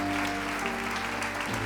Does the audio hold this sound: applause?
yes